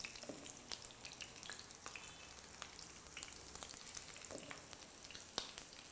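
Butterfly prawns frying in a pan, about five at a time, give off a steady, fairly quiet sizzle with scattered sharp crackles and pops throughout, no voices.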